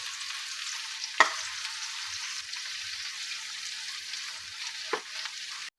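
Vegetables frying in a pan with tomato ketchup are stirred, giving a steady soft sizzle with two sharper scrapes of the spoon against the pan, close and alone without talk.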